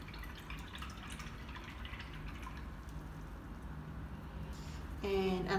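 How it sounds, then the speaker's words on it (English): A paintbrush swished and rinsed in a water cup during acrylic painting, a low continuous sloshing and dripping under light background noise, close, with a brief louder clink near the end. "wash your brush out"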